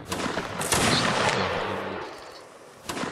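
Musket volley in the Waterloo battle of the Mount and Blade Napoleonic Wars video game: a loud, dense burst of overlapping gunshots rolls into a long fading rumble, with a single sharp report near the end.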